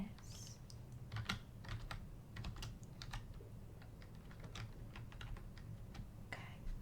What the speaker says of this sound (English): please make sure I'm typing it in correctly